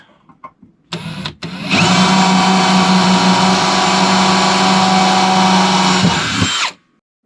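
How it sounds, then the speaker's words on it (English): A power drill bores pilot holes in marked spots during an RV rebuild, the holes later opened up for bolts. A couple of short bursts give way to a loud, sustained, steady whine lasting about five seconds, then it stops abruptly. "I'll make a pilot hole in each of these spots, and then I'll open them up"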